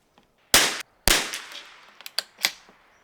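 A Bergara B14R rimfire rifle is dry fired on an empty chamber, heard as two loud, sharp mechanical bursts close by, followed by a few quicker, quieter metallic clicks as the action is worked.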